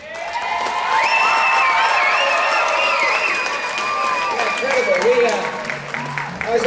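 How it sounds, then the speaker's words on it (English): Audience applause at a 2010 ALA faculty showcase, a loud steady wash of clapping that holds for several seconds with cheering voices and whistle-like tones riding on top, then slowly thins out. "Everybody, I want a big round of applause."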